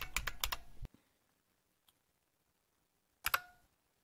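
Quick bursts of clicking keys as a password is typed on a computer keyboard running Linux Debian, one rapid flurry, a long pause with a lone tap, then a short final burst.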